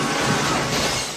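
Glass shattering in an action film scene: a brief, loud burst of crashing, spraying shards filling the whole moment with dense noise.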